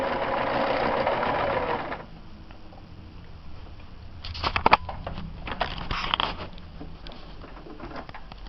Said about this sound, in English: When I turn it on to zigzag, it does a zigzag stitch.